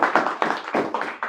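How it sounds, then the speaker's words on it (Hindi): Several hands clap in a brisk, roughly even rhythm, a small group applauding at moderate volume with no voices, in a circuit board repair training class. "इनके लिए जोरदार तालियां"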